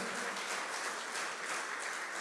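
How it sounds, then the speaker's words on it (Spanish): Steady applause from a church congregation, continuous and fairly loud throughout, with no talking. "Denle un aplauso al Señor."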